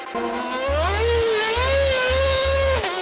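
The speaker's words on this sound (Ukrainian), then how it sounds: "Даніель Рікардо виїжджає на бульвар Лесі Українки на 770 сильному формульному моторі" A high-pitched Formula One car engine, a Renault Motorsport unit of about 770 horsepower, revs and whines on a city boulevard, rising and falling in pitch as it accelerates, loud and close, with low thumping pulses beneath.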